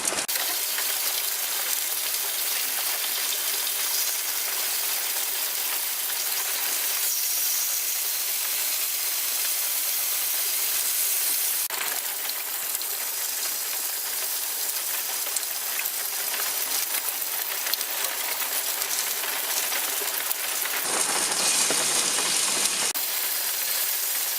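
Bacon frying in a pan for a full English breakfast, giving a continuous close hiss and sizzle with fine crackling. It keeps going for over twenty seconds, with brief shifts where pieces are added. No one speaks.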